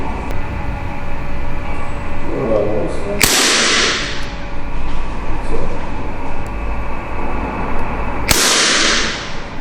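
Two sharp, loud Glock pistol shots fired in a gym, several seconds apart, each cracking and echoing over a steady background rumble.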